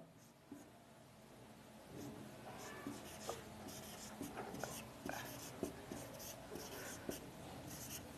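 Marker or chalk writing on a classroom board during a geography lesson, light scratchy strokes and taps coming in short bursts, faint and close.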